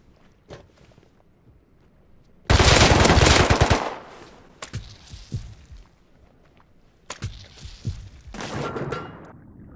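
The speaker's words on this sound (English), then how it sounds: "Well, that's an AK." An AK assault rifle fires in the survival game Rust as a loud, close burst of automatic gunfire, followed by footsteps and a second, shorter burst of shots a few seconds later.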